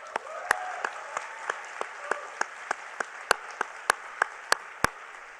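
Audience clapping at the Hult Prize event, a steady spread of applause with sharp individual claps standing out at a near-regular rhythm over a few seconds.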